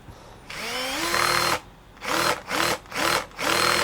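An electric screwdriver set to low torque drives a screw into soft pine wood, whirring loudly for about a second before stopping, then giving four short, rising bursts in quick succession, close up with no talking.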